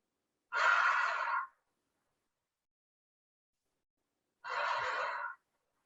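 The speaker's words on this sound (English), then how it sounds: "Okay, exhale and inhale. 4 deep breaths." Two deep, forceful breaths during a guided yoga breathing exercise, each a loud, airy rush lasting about a second, separated by several seconds of silence.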